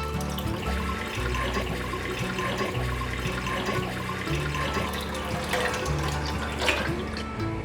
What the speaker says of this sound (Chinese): 蒸锅中倒入多一点的水